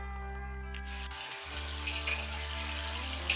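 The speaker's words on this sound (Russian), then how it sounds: "Течет холодная вода, но крутится счетчик горячий." Cold water streams steadily from a household tap, a close, continuous hiss over a low electrical hum, briefly dipping near the start before flowing on evenly.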